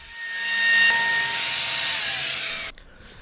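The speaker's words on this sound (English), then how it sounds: "I round over the edges." Wooden workbench legs having their edges rounded over, a steady bright rasping, sawing-like tone that runs continuously for about two and a half seconds, then cuts off abruptly into quiet.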